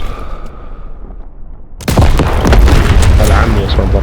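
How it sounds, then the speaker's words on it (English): Heavy booms and gunfire of artillery fire support erupt loud and dense in a World War II video game battle, a quieter rumbling ambience giving way to continuous explosive blasts. "Thanks for the fire support, Daniels."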